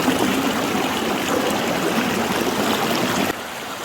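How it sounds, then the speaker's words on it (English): Water in a stream near a waterfall at Hidden Falls in Portland rushes in a steady, full, close wash that cuts to a slightly quieter level near the end, with no voices. "Nice flowing water."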